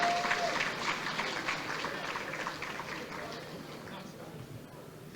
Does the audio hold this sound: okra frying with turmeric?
no